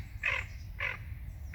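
Tufted ducks on a lake give two short, harsh, rasping calls about half a second apart, fairly near, over a low background rumble.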